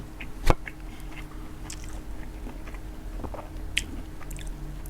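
Close, soft chewing of silkworm pupae, with moist squishing and occasional crunchy bites under steady low background noise.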